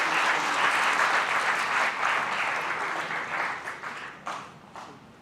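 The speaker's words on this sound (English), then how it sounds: "Let us again give a big round of applause to Mr. Maurice Jansen." Conference audience applauding a speaker at a maritime industry session, a dense round of clapping that holds steady and then gradually thins out toward the end.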